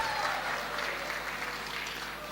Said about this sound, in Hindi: एक बार जोरदार तालियां सर के लिए।